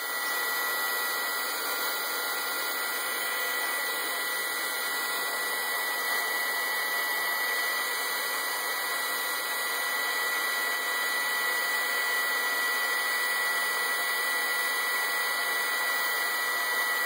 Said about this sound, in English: It's a good thing to warm up your heating tool first.